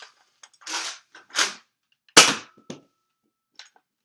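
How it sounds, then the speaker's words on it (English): A Nerf sniper Uzi springer blaster dry fired, giving about five loud, sharp snapping bursts at uneven gaps with short silences between, close up and with no voices. "it's really loud if you dry fire it"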